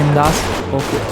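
Gunfire crackles during a gang war in a video game, with dense, rapid shots running throughout. Someone talks over the shooting.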